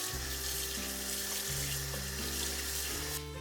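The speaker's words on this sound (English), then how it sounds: "Wet a clean cloth." Water runs steadily from a tap into a sink as a clean cloth is wetted for steaming rice, a loud continuous splashing rush with no talk.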